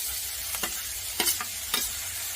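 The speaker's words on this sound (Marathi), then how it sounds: "चुरचुरीत असा आवाज आला भाजीचा" A crisp garlic tempering poured over spinach in a pan makes a loud, continuous sizzling hiss, with a few sharper crackling bursts along the way.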